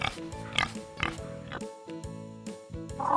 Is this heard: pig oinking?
yes